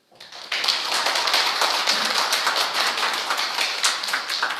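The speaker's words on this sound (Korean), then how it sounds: "지금 여러분 박수를 치는데" Audience clapping at a panel discussion on firefighter finances, a dense steady burst of many hands starting suddenly and holding at an even, fairly loud level, with no voices over it.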